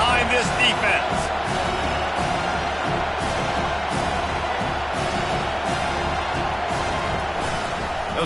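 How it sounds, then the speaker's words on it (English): Stadium crowd at a Tennessee versus Penn State college football game roars steadily through a big third down, a dense continuous wash of cheering with thumps and shouts, loud and close throughout. "Big third down as the crowd gets behind this defense."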